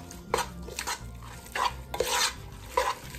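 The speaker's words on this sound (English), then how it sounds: "And then give it a good mix." A spoon works an egg into a spaghetti pie mixture in a bowl, giving several scraping, clattering strokes in quick bursts with quieter pauses between them, close and moderately loud, with no talking.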